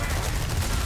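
Submachine gun fire in Resident Evil 4, a brief, loud, dense burst of rapid shots filling the short moment without pause.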